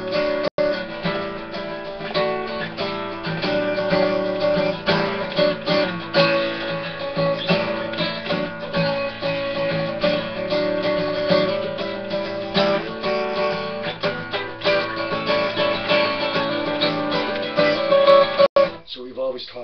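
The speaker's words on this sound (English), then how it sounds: "start strumming and mess around with that A lick" Electric guitar strumming a 12-bar blues shuffle in E, working in an A lick with steady down and up strums; dense, continuous chordal playing at even loudness, stopping abruptly near the end.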